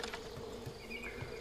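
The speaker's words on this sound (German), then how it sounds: "Ah, scheiß Bienen." Faint insect buzzing from bees in the video game Far Cry 5, a soft continuous drone with light flutter over quiet game ambience.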